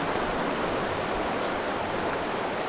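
A flooding river rushes through the Poudre River Canyon in the Colorado Rocky Mountains, a steady, dense roar of churning water with no pauses or voices.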